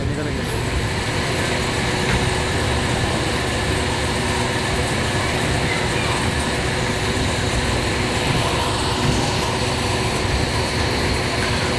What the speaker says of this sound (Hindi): Freight train passing through Bahawalpur railway station, city of nawabs.